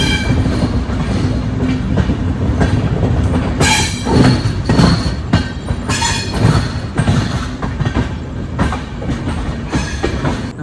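The Bagmati Express, running from Darbhanga to Mysuru, rolls on rails toward Patna, a loud continuous rumble with rattling carriages and brief squealing bursts, heard close from onboard.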